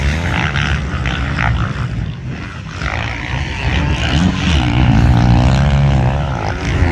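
GasGas 450 motocross bike racing in a pro class event, a continuous loud engine roar that rises and falls as the bike revs, with no talk.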